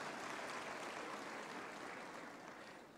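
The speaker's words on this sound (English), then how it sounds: "Ladies and gentlemen, let us applaud our graduates" A graduation-ceremony audience claps for new Faculty of Education graduates, a dense, steady wash of many hands, fairly faint and distant, tapering slightly toward the end.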